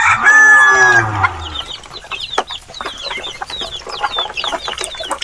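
Small native chickens: a rooster crows loudly and close at the start, then a flurry of quick clucks and chirpy calls follows in an irregular patter with no voices.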